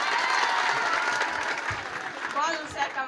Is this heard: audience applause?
yes